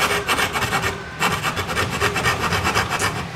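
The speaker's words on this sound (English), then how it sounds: "now let's carefully follow our cut out, try not to bend the saw too much" A coping saw cuts through wood on a workbench with steady, close, rasping back-and-forth strokes and a brief pause partway through, with no talking.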